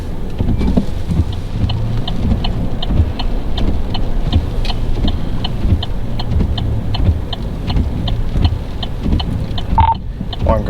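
Steady rain with a gusting wind roar from a police patrol car, broadband and constant throughout, with faint rhythmic ticking and a brief clunk near the end.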